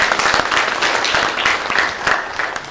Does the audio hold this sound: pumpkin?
no